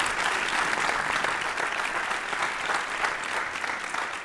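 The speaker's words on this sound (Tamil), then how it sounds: "யதார்த்தமாகவே இந்த கைத்தட்டு வந்துருச்சு" A studio audience at an Independence Day special of a Tamil talk show breaks into steady, full applause, a continuous wash of many hands clapping with no pauses.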